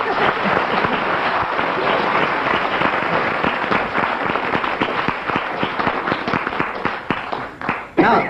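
Studio audience claps loudly and continuously at a radio comedy panel game recording, dense applause with a few distinct sharp claps and some crowd noise as it tails off.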